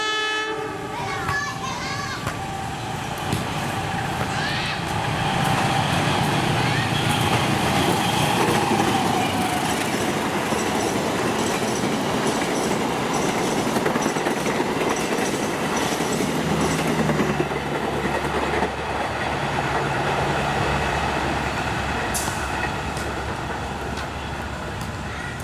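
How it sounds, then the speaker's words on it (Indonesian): A departing train rolls past steadily, with continuous rumble and rhythmic clickety-clack of rail cars, a horn sounding near the start, loud and sustained throughout. "Dan terakhir ini keberangkatan kereta api"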